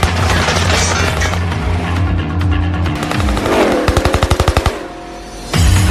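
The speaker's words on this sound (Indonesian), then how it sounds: "Walaupun dihujani tembakan" Rapid bursts of gunfire crackle amid a loud action film soundtrack, with a fast string of evenly spaced shots followed by a heavy booming hit.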